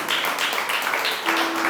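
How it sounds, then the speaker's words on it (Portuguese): Applause rises from a congregation during a church service, steady, moderately loud clapping over a short stretch, with a faint held tone in the background. "Vamos dar uma salva de palmas ao Senhor."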